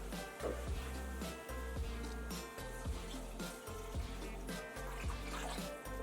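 Water pouring into a pot of rice and coconut milk, a continuous trickling, splashing stream with irregular liquid gurgles, fairly close and unaccompanied by speech.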